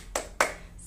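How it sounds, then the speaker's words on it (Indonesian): Children in a primary school classroom clap a spirit clap, giving two sharp, close hand claps a short beat apart. "Oke, tepuk semangat."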